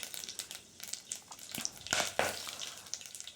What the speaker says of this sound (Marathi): त्यानंतर जिरं घालायचं आहे आणि मस्तपैकी असा तडका द्यायचा आहे